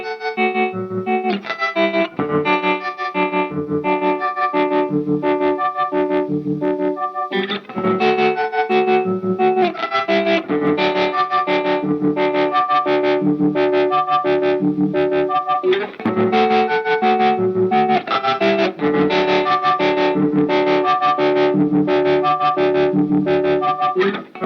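Digitally controlled analog distortion from a Hologram Electronics Dream Sequence pedal, heard as a loud, continuous clipped and saturated tone played through the effect with chorus-like shimmer and sustained chords, no talking over it.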